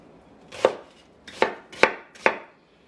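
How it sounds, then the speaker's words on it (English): Four distinct knife chops roughly cutting an onion on a cutting board, spaced unevenly, crisp and close, with quiet pauses between. "What I'm doing is giving the onion a rough chop."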